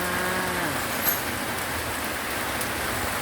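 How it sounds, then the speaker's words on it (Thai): Steady afternoon rain falls as a dense, even hiss with no talk, and a faint low moo-like call sounds briefly near the start. "ฝนตกมาอีกแล้วนะคะ"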